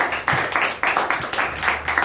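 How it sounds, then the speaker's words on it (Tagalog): A church congregation claps for the Lord, loud bursts of hand clapping in a roughly rhythmic pattern, several rounds of claps close by with no talk over them. "Kung mas malakas na palakpak pa sa Panginoon."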